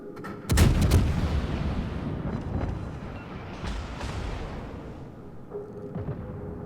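Naval guns boom from a French tier-6 premium cruiser in World of Warships, one heavy blast followed by a rumbling, sustained roar of battle and a few further distant shots, loud and without talk.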